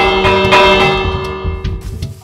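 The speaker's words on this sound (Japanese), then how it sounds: "なんか、鐘の音聞こえました。" A village bell in Minecraft Pocket Edition rings with a sustained metallic tone over steady in-game background sound, then fades over a couple of seconds.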